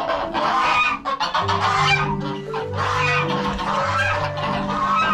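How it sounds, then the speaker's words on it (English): Several geese honk loudly and repeatedly, overlapping nasal calls close by with a busy, noisy background and no talking. "You gotta watch out for these geese"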